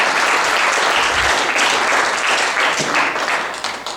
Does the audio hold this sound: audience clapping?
yes